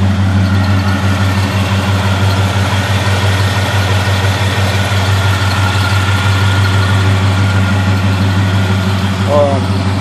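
1971 Chevrolet Chevelle engine idling, a steady deep rumble with a strong low hum and even throb, recorded close and constant for about ten seconds with a faint squeak near the end.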